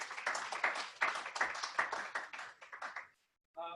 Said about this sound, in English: Round of applause for Laura.